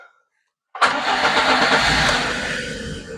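After a brief silence, a Lada Kalina engine with a hard cold start cranks and catches abruptly, settling into a loud, close running roar.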